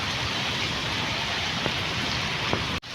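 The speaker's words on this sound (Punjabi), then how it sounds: "ਓਹ ਇੰਨਾ ਵੀ ਮੀਂਹ ਨੇ ਰਿਕਾਰਡ ਤੋੜ ਦਿੱਤੇ" Heavy rain pours down in a steady, dense hiss, with a couple of louder drops standing out before the sound briefly cuts out near the end.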